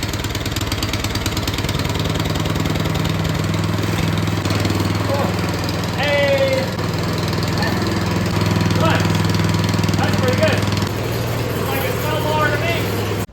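Quad ATV engine that starts on the first try with the choke on, idling steadily and loud throughout with a rough, thumping mid-pitched drone, while a person talks over it now and then.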